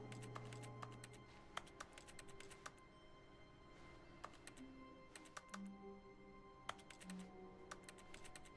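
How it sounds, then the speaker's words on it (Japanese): Quiet clusters of keyboard Enter key presses in quick bursts from The Stanley Parable game, with pauses between, over a faint background hum and soft tones. "クリックすると永遠にキーボードのエンター音をする。"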